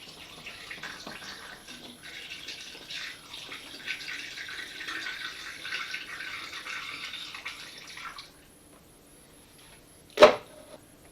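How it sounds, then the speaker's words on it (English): Cold water pours into a container of fermenting sweets for several seconds, a soft steady splashing rush that stops abruptly, followed by a brief clunk after a short quiet pause. "I am now going to top this up with some more cold water"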